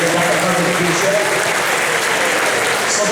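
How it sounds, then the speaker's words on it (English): An audience breaks into a dense burst of applause, sustained and fairly close, with no talk over it. "Let's give her a huge round of applause"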